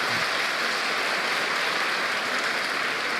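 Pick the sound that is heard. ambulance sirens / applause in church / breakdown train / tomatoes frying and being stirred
applause in church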